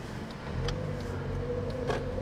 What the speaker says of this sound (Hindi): इधर हम अपनी गाड़ी पार्क कर रहे हैं